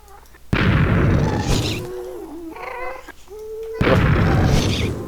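Ghast fireballs explode in Minecraft, two loud close blasts with rumbling decay. Between them comes a wailing, moaning creature cry.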